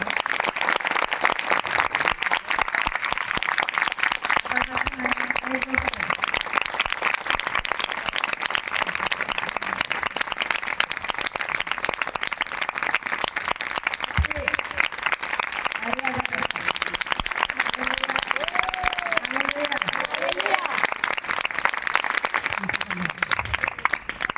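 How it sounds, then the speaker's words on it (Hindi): A congregation at a church service claps loudly and continuously throughout, a dense steady wash of applause with a voice speaking over it at times. "प्रभुଙ୍କର ପାଇଁ ଗୋଟେ ଉଚ୍ଚ କରତାଳି ଦେବା"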